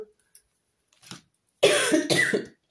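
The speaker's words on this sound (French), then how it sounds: "Je m'excuse, je suis avec la toux." A single harsh cough breaking out close up after a few faint breathy sounds in a quiet room.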